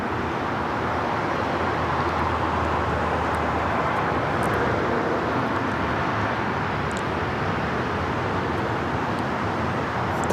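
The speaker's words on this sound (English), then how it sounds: "This is that flight coming in from Tokyo Narita, flight 33 with United. It's a 787-9 Dreamliner heading over to Terminal 7." United Boeing 787-9 Dreamliner jet airliner arriving at LAX from Tokyo Narita, a continuous loud broadband jet roar and rumble that stays steady throughout with distant airport ambience.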